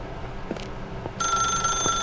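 A telephone in the office of The Stanley Parable video game begins ringing partway through, a steady electronic ring held to the end after a quieter, near-silent opening.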